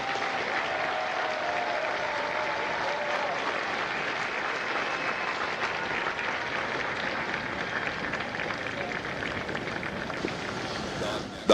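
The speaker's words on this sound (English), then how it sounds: "please join me in a round of applause for the staff of my company" Steady applause from a large crowd at a Marine Corps Recruit Depot San Diego graduation ceremony, a dense, even patter of clapping that holds unbroken for the whole stretch.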